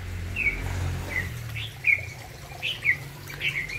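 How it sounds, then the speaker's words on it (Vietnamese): White-eye birds chirping outdoors on a hillside, a series of short, high, bright calls scattered irregularly over a low steady hum, fairly near and clear. "Đấy, khuyên đấy các bạn"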